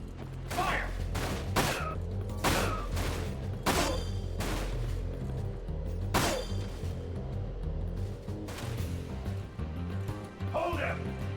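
Repeated gunfire in the Dirge of Cerberus game: loud, sharp bursts in an irregular volley over a steady low rumble, with whooshes and impacts between them.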